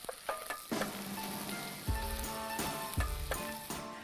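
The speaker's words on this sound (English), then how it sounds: "you want to fry the tomato paste in the oil" Tomato paste fries in oil in a pan, part of a puttanesca pizza sauce cooked outdoors; a loud close sizzle crackles under repeated metallic scraping and stirring strokes, with no talking.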